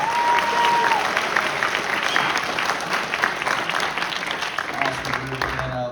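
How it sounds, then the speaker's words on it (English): A high school jazz concert audience breaks into loud, sustained applause, a thick wall of clapping with some crowd noise mixed in, fading slightly toward the end. "Give him a round of applause."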